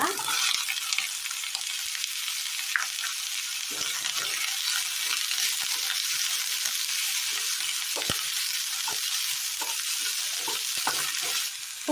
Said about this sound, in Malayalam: അടുപ്പത്തൊരു പാൻ വെച്ചു കൊടുത്ത് അല്പം എണ്ണ ഒഴിച്ചു കൊടുക്കാം ഇതിലേക്ക് ചെറിയുള്ളി അരിഞ്ഞ് ചേർത്ത് കൊടുക്കാം